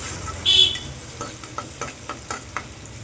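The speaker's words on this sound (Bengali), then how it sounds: "পেঁয়াজগুলোকে খুব ভালো করে ভেজে নেবো" Onions sizzle in hot oil with a steady hiss while a spoon scrapes and stirs the pan several times.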